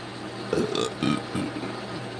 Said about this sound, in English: That was a coffee burp.